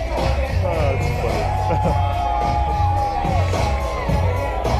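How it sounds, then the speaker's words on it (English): A whole crowd packs an arena, rising to its feet and chanting a phrase in a loud, continuous rhythmic roar, with shouts and whoops mixed into the dense wall of voices. "now the whole crowd is saying this is how we do it"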